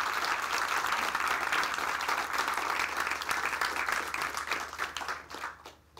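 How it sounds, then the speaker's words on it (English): An audience at a literary event applauds steadily for several seconds, a dense wash of clapping that thins and fades at the end. "Let's give them all a big round of applause."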